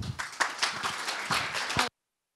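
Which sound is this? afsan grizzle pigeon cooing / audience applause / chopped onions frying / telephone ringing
audience applause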